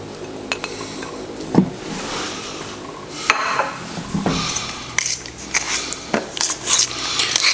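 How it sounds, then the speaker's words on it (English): Butter being worked by hand into a soft Armenian pastry dough for gata or nazook, with squishy kneading, sticky slaps and occasional clinks of a bowl or utensil, close and steady, no talking. "this butter mixes in relatively well even early on"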